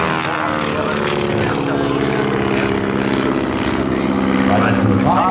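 Biplane engine and propeller droning loud and steady at close range as the aircraft pulls into an aerobatic hammerhead turn at an airshow, the roar swelling slightly toward the end.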